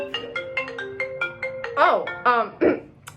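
An incoming call sets a telephone ringing with a melodic ringtone of short, evenly spaced tones, and a voice-like sound breaks in toward the end.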